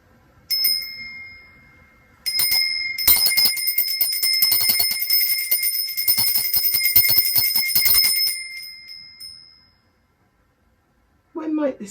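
A small brass Welsh doll bell rung in repeated bright, sustained peals, close and loud, with a brief ring first, then a longer stretch of continuous jingling before it fades to silence.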